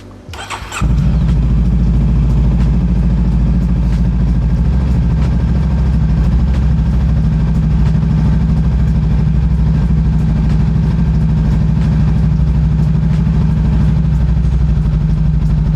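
A motorcycle fitted with an AOOCCI C3 Plus CarPlay unit cranks briefly and catches, then settles into a loud, steady, close idle that runs without a break to the end.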